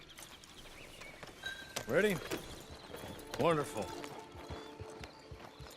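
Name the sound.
horse hooves and neigh in video game Red Dead Redemption 2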